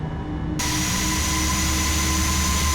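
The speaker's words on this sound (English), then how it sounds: "There is the engine sound." Jet engines of a default CRJ900 regional jet in the Aerofly FS 4 flight simulator, a steady, loud, close whining roar with a sharp tonal hum that jumps in level after a brief quieter start.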